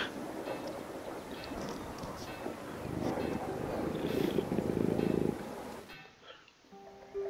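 A deep, rumbling purr of a large cat in a video game, steady and close, swelling louder before cutting off abruptly.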